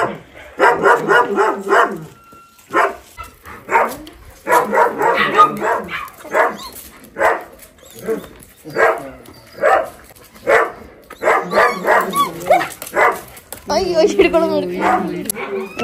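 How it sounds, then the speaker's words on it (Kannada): Small dogs barking and yipping in bursts of sharp, repeated yaps, close by, with a whimper among them and people talking over and between the barks. "ಇಲ್ಲಿ ನೋಡಿ ಚಿಕ್ಕ ಚಿಕ್ಕ ನಾಯಿಗಳಿದೆ."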